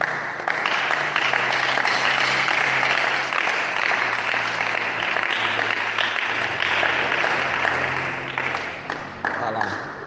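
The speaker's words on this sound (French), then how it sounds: "Est-ce qu'on peut maintenant acclamer pour la gloire de Dieu?" A church congregation applauds and cheers at a worship service in continuous, dense clapping that fills the space for about ten seconds, with voices mixed into the crowd and a low sustained tone underneath.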